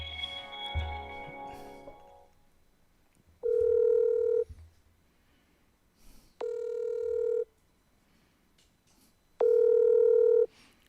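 A telephone call is placed and waits to connect, with faint handling noise at first, then three steady ringback tones about a second long each, separated by silent gaps.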